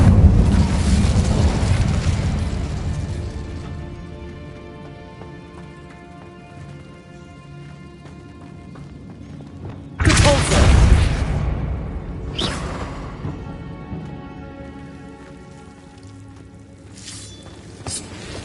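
Incendio fire spells are cast in the Hogwarts Legacy video game: a loud whooshing burst of flame opens the clip, with a second roaring fiery blast partway through and a couple of fainter flares later.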